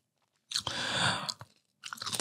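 Crunchy fried meatball snack (bakso goreng) being chewed up close: a loud burst of crisp crunching bites, a brief pause, then another round of crunchy chewing.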